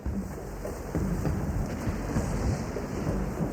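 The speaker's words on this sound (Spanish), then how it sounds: "durante una furiosa tormenta" Furious mountain thunderstorm at night, dense heavy rain pouring steadily with low rolling thunder rumbling beneath, loud and continuous throughout with no voices.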